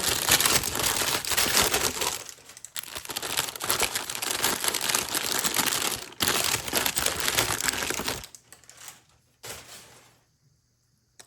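Tucson crystals are unwrapped from protective packaging in close, loud crinkling and rustling of wrap, continuous for several seconds with brief pauses, then fading to near silence at the end.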